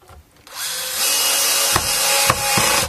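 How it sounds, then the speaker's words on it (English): A cordless electric screwdriver set to its lowest torque whirs steadily as it drives screws into a superstrat electric guitar, close and loud, with a few sharp clicks as the clutch slips. "So I just run them on a very light torque. The torque is the lowest one, in fact, on the screwdriver."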